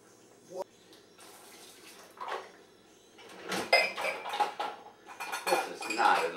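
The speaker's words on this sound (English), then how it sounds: "Been a while since I washed dishes in the dishwasher." Dishes clatter and clink while being washed, with running water and repeated close, loud bursts of clanking cutlery and plates that grow busier toward the end, with some talk underneath.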